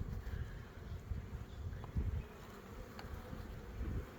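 Soft, steady buzzing of many honey bees around an open hive during frame inspection, continuous and low, with a few faint clicks and knocks.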